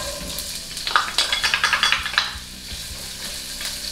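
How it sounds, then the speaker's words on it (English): Carrots sauté in a hot pan with steady sizzling, while a series of quick stirring scrapes and clinks run through the middle, close and fairly loud. "Sauté your vegetables and put in my carrots first."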